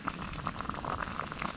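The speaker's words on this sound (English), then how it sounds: "So you put the boiling water in it, and then you stir it" Boiling water goes into a pouch of dehydrated green onion, chive and garlic mashed potatoes on an Appalachian Trail backpacking trip, a close bubbling, spattering patter that runs steadily without speech.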